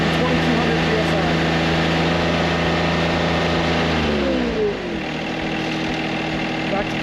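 Engine running at wide open throttle to drive a hydraulic cutting system near 2,200 PSI, a loud steady droning roar whose pitch sags midway as the load comes on, then holds steady.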